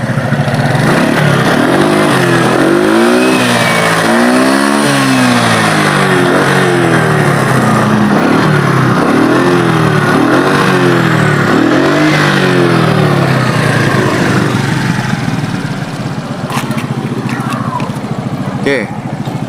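A Suzuki Skywave scooter engine is revved repeatedly up close, its pitch swooping up and down in loud, rhythmic blips before settling near the end.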